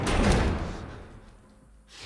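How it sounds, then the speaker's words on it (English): Doors are slammed and barricaded in The Last of Us Part I, a single heavy thud and scrape that quickly dies away into a quiet room. "Barricade the doors."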